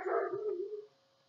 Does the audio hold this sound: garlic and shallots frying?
no